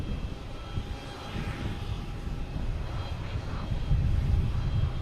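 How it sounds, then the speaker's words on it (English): An Aer Lingus Airbus A330-300 arriving from Dublin at Boston Logan Airport gives a steady, broad jet roar that grows slightly louder toward the end. "here we got Aer Lingus coming in from Dublin"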